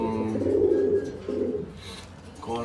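A breeding pigeon coos in a loft: a steady, throaty, rolling coo that swells and pauses, with softer coos returning near the end, close and fairly loud.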